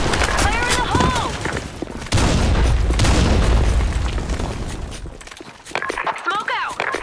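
A grenade blast in the shooter game BlackShot lands as a heavy low boom partway through, amid gunfire, footsteps and game voice callouts. A chatter of shots follows before the sound fades.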